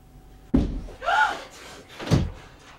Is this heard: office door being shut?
yes